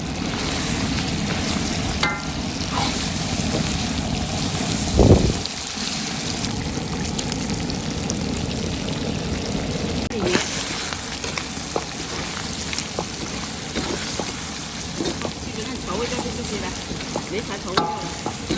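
Chicken frying in a wok with soy sauce and chili, a continuous close sizzle with repeated spatula scrapes and tosses throughout, one sharper clatter early on, and no one speaking.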